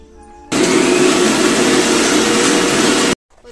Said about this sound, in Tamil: புதினாவை நல்லா அரைச்சி முடிச்சாச்சு.